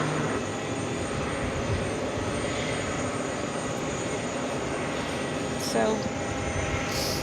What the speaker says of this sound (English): Flight headed back to Seoul in this A380 Super, taking off runway 13 right.